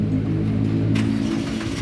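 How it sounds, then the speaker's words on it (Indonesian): A manual 2017 Suzuki Baleno 1.4 hatchback engine starts by push button and settles into a steady, loud idle rumble close by, with a brief rise in pitch partway through and no talk. "Jadi kita pencet start stop engine-nya."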